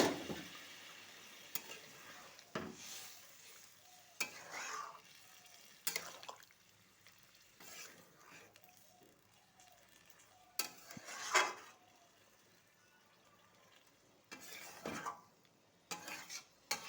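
Pointed gourd and prawn curry being sautéed in a pan: quiet, scattered scrapes and clinks of a spatula, separated by low simmering hiss, with a few louder knocks against the pan.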